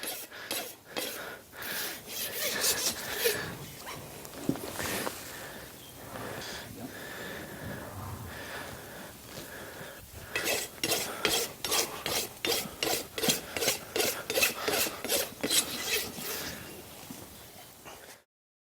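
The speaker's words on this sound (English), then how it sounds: "the majority of my rasping has been done on the front part of the foot" A farrier's rasp files a horse's front hoof in steady back-and-forth strokes. The scraping sounds moderately loud and close, and the strokes grow into a fast, even rhythm toward the end.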